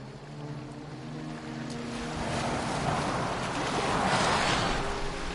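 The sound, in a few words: boat sailing on water in video game Assassin's Creed Valhalla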